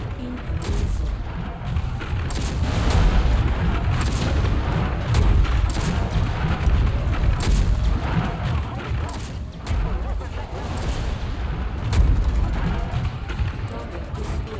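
Missile strikes and explosions in MechWarrior 5 combat: repeated booms and gunfire-like blasts with dense rumble throughout, a near continuous barrage with sharp impacts every second or two.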